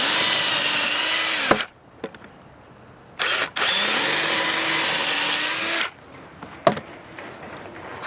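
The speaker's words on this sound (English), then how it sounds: "If you don't have a high-tech drill or a high-powered drill" A power drill whirs loudly in two long bursts while drilling a small hole for a garden box, its pitch steady under load, separated by short pauses and a few clicks.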